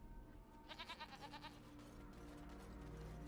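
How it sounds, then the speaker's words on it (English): A goat in Dragon Age Origins, at the Brecilian Dalish camp, gives a short rapid bleat with a quavering, pulsing rhythm over quiet game ambience. "I heard goat."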